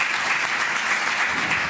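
Sustained, close applause from an audience at the end of a public meeting on the coronavirus at Bordeaux's university hospital, even and unbroken.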